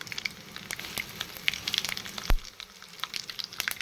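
Mustard seeds and dried chili crackle in hot oil for a tempering for bottle gourd chutney, a faint steady sizzle broken by sharp popping crackles, heard up close without speech.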